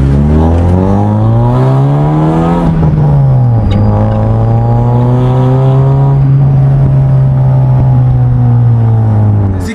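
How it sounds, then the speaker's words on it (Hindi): A Honda Civic fitted with a full stainless steel exhaust revs hard, heard from inside the cabin: a loud, steady engine drone that climbs, dips sharply near the middle, then holds a high, even tone to the end. "साउंड बहुत ज्यादा लाउड है, एक बार रेव करके दिखा देता हूँ।"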